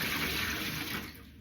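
Water from a kitchen tap gushes steadily into a sink for washing up, a continuous close hiss that eases off slightly at the end.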